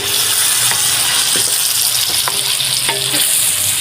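Eggs are stirred in a hot pan, a constant loud sizzle of frying with a few sharp clicks and scrapes of the utensil against the pan.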